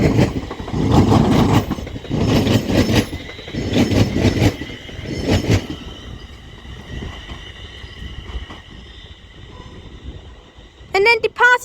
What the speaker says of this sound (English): departing on the left is going to be another Northern Class 331 heading off to Manchester Piccadilly